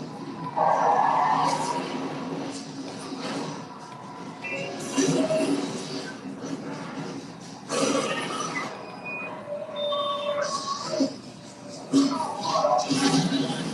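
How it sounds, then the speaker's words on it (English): A truck skids and crashes in a film scene: repeated tire squeals and screeching bursts, heavy impact noises and engine roar come in loud, uneven waves, with some voice-like sounds mixed in. "The truck crashes"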